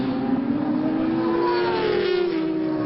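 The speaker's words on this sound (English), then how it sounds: "That 1000cc just getting a little bit quicker as they head up into Peel Corner." A 1000cc endurance racing motorbike accelerates on the Anglesey circuit toward Peel Corner, a loud sustained engine note climbing steadily in pitch, alone without talk.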